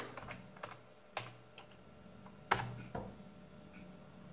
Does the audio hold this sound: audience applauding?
no